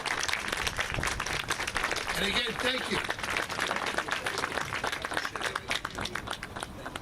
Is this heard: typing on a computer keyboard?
no